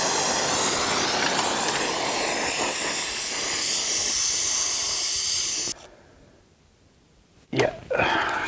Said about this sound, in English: Particularly a pinhole leak with a clear pinhole at the back of the crimp here at the top.